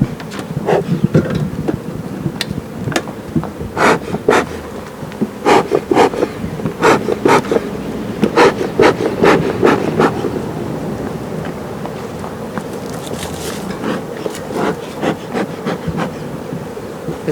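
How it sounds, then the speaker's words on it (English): Bees swarm and buzz around a wooden beehive box outdoors, a loud continuous drone with individual insects zipping past the microphone in repeated close passes, no talk. "As you see, more and more bees are all over"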